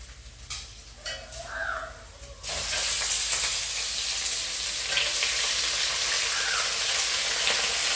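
Chicken for pepper chicken hits a hot pan after a couple of quiet kitchen clatters and bursts into a loud, steady sizzle that carries on to the end.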